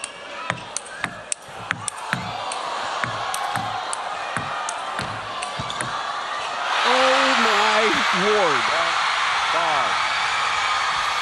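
Crowd at the EuropeSmash 2025 men's singles table tennis final between Lin Shidong and Truls Moregard erupts in loud cheering and whoops after a point, swelling from scattered claps and voices into a sustained roar with a voice calling out over it.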